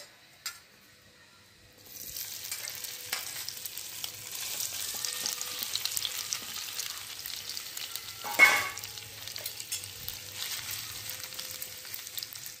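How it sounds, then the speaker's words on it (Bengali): Paneer cubes fry in hot ghee in a pan, a steady crackling sizzle that starts after a brief quiet moment and continues with a louder spatter midway, with no talk. "প্রথমে আমি এখানে পনিরগুলো আগে ভেজে নেব।"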